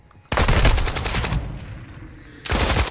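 Loud automatic gunfire in a military shooter video game: a rapid burst that fades after about a second, then a second sharp burst close by.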